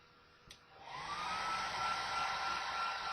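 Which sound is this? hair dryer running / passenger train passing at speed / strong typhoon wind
hair dryer running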